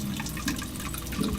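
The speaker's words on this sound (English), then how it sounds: "So the water starts as a trickle once" Water from an aquaponics pump trickling into a drain bed, a close, steady splashing patter with no voices over it.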